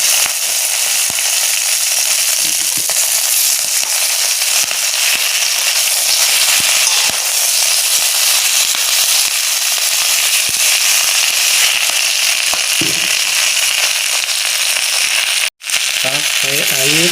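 Shallots, garlic and katuk leaves frying in a pan, a loud continuous crackling sizzle with sharp pops held steady throughout, a brief cut near the end followed by faint clatter and a voice.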